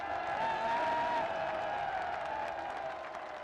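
A large crowd at a political rally in Gujranwala claps and cheers in a steady wash of applause, with a faint voice and tonal hum running beneath.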